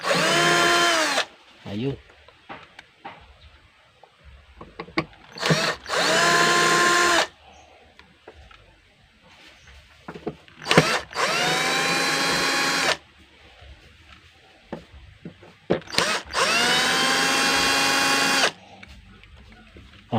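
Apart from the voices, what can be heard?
power screwdriver removing screws from a Bluetooth speaker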